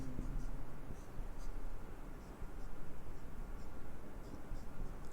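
Pen writing chemistry formulas by hand on paper: a steady, faint scratching under a constant hiss of background noise, close by, with no talking.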